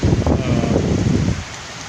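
Heavy rain pours in Saigon, Vietnam, a dense, loud hiss with gusty wind that stays thick, then eases slightly toward the end.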